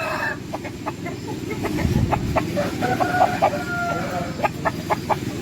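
Roosters of a prized breed on a farm garden crow repeatedly over a steady background of hens clucking, the calls overlapping at varying distances, loud and lively, with no talk.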